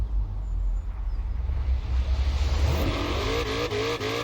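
A Ford Mustang in Forza Horizon 4 on a test circuit, its engine droning low and steady, then revving hard and climbing through gears with rising pitch, loud and close throughout.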